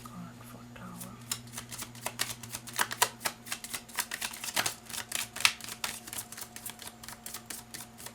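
Tarot cards are shuffled and drawn with a rapid, crisp run of close flicking snaps, softly over a steady low hum, with a faint whispered voice early on.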